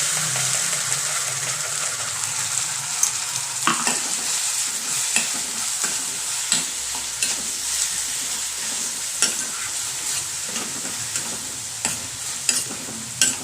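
A paste of green chili, ginger and garlic frying with onion in a pan, a continuous hiss broken by regular scraping strokes of a spoon stirring up close.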